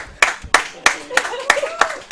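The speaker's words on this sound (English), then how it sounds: "A great applause for Susie's hair braiding skills." Applause for hair braiding skills: a handful of sharp, evenly spaced claps, about one every third of a second, close and clear with no other sounds.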